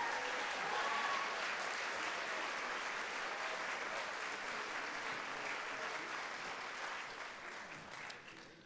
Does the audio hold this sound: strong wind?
no